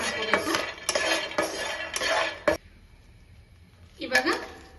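Peanuts being dry roasted in a pan over a low flame, stirred with a metal spoon: several sharp scraping clinks in a quick rhythm, a short pause, then more stirring and rattling, close and clear.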